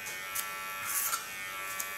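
Electric hair clipper buzzing steadily up close while cutting hair guided by a comb, with brief louder bursts as it passes through the hair.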